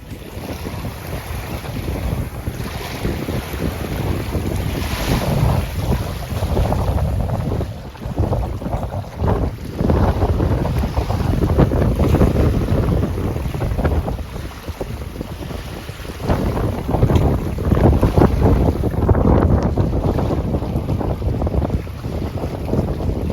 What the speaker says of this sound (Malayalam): ശക്തമായ കാറ്റ് തന്നെയാണ് കേട്ടോ.